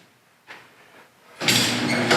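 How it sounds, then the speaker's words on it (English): A house garage door starts up with a soft rattle, then the motor rises into a loud, steady rumbling drone as the door moves. The sound is close and there is no talk. "Garage door works."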